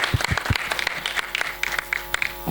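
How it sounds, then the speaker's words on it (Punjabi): Audience clapping for actor Aman at a Punjabi film event, a short burst of scattered claps with several sharp, close hand strikes near the start, thinning into lighter, uneven applause. "ਜ਼ੋਰਦਾਰ ਤਾੜੀਆਂ ਮਾਰ ਦਿਓ"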